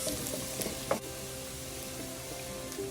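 Diced garlic and onions sizzle steadily in a hot pan for a creamy shrimp Alfredo, with a spoon stirring through them and a few sharp scrapes and clinks over the constant frying hiss.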